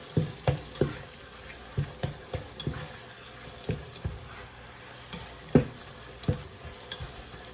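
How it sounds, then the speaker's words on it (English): Garlic paste cooks in a pan for American goulash, giving a quiet, steady sizzle broken by regular scrapes and knocks of a spoon stirring, all without talk. "Now we'll cook it for just about a minute more."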